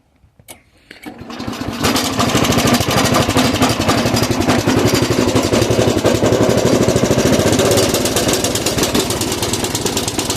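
A small petrol engine on a Scamp 118 garden railway locomotive starts with a few coughs, then runs loud and close in a steady, rapid chugging rhythm for the rest of the stretch, without speech.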